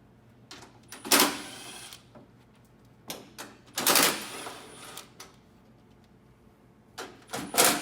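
A fan unit's cover is taken off during an ECM motor and controls installation, giving a few sharp clicks and clattering rattles in separate bursts with quiet gaps between, close by.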